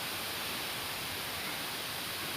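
Waterfalls at a swimming spot in Stony Brook, NY, give a steady, even rush of falling water that holds constant throughout, fairly soft, with no voices.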